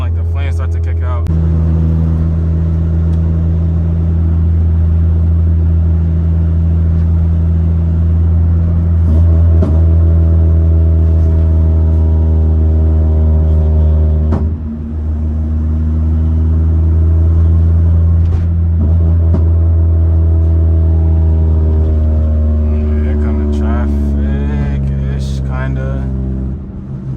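A 6-speed Honda Accord's engine drones loudly and steadily from inside the car as it drives, its pitch rising and falling through revs and gear changes, with a brief dip midway and voices talking over it.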